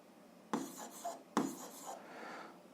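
A pen writes numbers down on paper in two short bursts of close, soft scratching strokes, quiet and alone.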